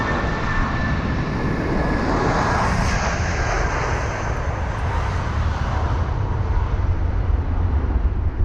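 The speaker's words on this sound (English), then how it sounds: "And Harrison Grant saying cleared for approach runway 27 right for the A340, which is landing on our runway." Edelweiss Air A340 jet airliner on approach to runway 27 right at London Heathrow, engines roaring steadily at a distance throughout, with a high whine fading early on and no voices.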